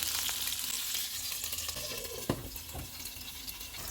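Salmon piece frying in hot oil over low-to-medium heat, a dense hissing sizzle with a sharp spatter burst midway before it settles back to an even crackle.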